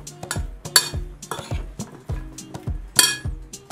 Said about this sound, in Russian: я его посолю и мешаю, чтобы соль распределилась